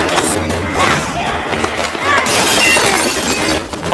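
An airport restroom is wrecked during a brutal fight scene in a Korean gangster film, with loud crashing, smashing impacts and shattering debris layered over dense action noise and a swell of tense music.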